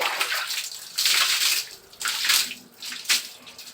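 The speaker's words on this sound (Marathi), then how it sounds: "शू रॅक बाथरूममध्ये नेऊन स्वच्छ धुतला. घासून मस्त पाण्याने धुवून घेतलंय" Water splashes and gushes in bursts as a shoe rack is scrubbed and rinsed in a bathroom, close and fairly loud, surging and easing several times with no talking.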